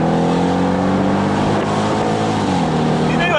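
A used Mercedes SLK55 AMG driving on damp roads, its engine droning loud and close with shifting tonal pitch and a brief climb near the end, heard from inside the car.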